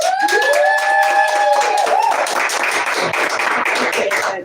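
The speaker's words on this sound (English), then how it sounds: "I want y'all to give Sizzlin Suzie a hard round of applause." A studio audience on a hip hop TV show gives a hearty round of applause for a guest performer, continuous clapping under a sustained synth tone that fades after a couple of seconds.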